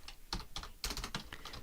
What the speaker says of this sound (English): now it's basically like typing in the word processor